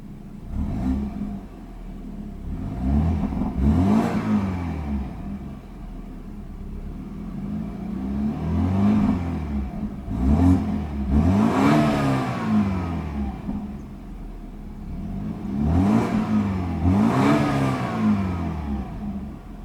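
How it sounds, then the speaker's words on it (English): A 2015 BMW 328i engine revs up repeatedly, roughly every few seconds, each burst of revving rising and falling back to a steady idle rumble nearby. No talking. "Beautiful sounding engine."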